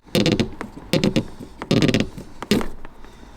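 Green fuel line pipe being worked free from a diesel heater sender unit in a van: four short bursts of creaking, ratcheting plastic-on-metal scraping, close and loud, separated by brief pauses.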